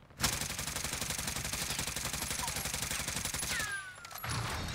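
An AK-74U fires continuously in Call of Duty Cold War, a dense stream of rapid automatic shots for about four seconds, then a brief lull before the fire starts again.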